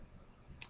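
One quick, faint computer mouse click, heard once near the end against a quiet room hum.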